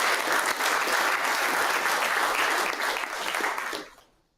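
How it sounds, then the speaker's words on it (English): A crowd at a Bassmaster kayak fishing tournament weigh-in on the Kissimmee Chain, Florida, claps loudly and continuously, then the applause fades out quickly near the end. "give everybody a round of applause"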